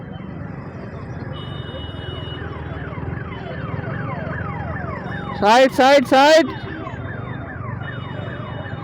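An ambulance siren wails steadily through road traffic, its rising and falling tone repeating close by, broken midway by two loud, blaring horn blasts while someone talks over it.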